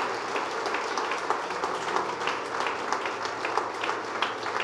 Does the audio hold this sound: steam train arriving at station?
no